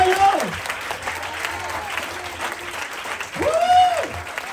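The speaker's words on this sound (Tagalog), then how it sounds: "Parang hina ng palakpak kapag may nababautismo na." Applause from a church congregation at a baptism, a modest, thin clapping that carries on steadily, with shouted voices and rising exclamations over it.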